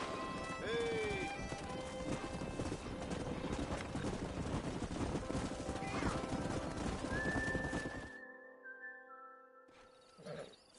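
Horses in the Red Dead Redemption video game, galloping hooves and a loud whinny over a busy blend of game sounds, then quieter tones and a late snort-like burst near the end.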